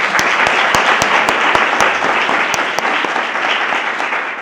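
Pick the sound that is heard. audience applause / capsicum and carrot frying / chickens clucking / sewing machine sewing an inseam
audience applause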